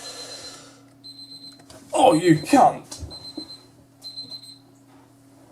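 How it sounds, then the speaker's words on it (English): An electronic alarm goes off in short bursts of thin, high beeping, interrupted by a brief spoken exclamation, then resumes in two more quieter stretches. "That was my other alarm."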